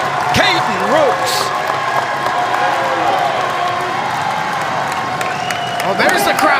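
A big arena crowd at a Big Ten college wrestling dual meet, Michigan State at Indiana, roars and cheers in a loud continuous wash with whoops and scattered shouts throughout.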